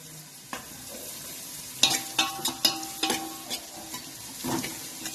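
Onion and tomato frying over high heat in a pan for a whole masoor dal dish, with a steady sizzle and a run of scraping stirs near the middle; no voices.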